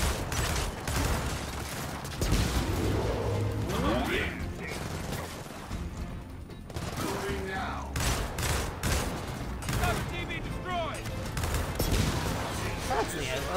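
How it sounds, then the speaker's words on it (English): Bullets striking a metal statue in Gears of War 4: rapid clattering, ringing metallic impacts mixed with gunfire in irregular bursts, loud and close, with voices talking over parts of it. "like bullet impacts into the metal statue"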